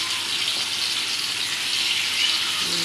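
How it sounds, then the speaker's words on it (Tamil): Pieces of elephant foot yam, karunaikilangu, deep-fry in hot oil with a steady, dense hiss and bubbling that holds at an even level throughout. "இப்போ நம்ம எண்ணெயில் போட்டு ஒரு பீஸாக இது பண்ணி பொரிச்சு எடுக்கணும்."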